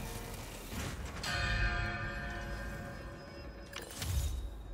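A bell rings inside an echoing hangar in the Spider-Man 2 video game, two struck tones with long reverberant sustain, the second strike near the end of the clip.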